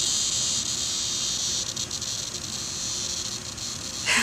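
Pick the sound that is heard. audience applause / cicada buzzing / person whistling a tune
cicada buzzing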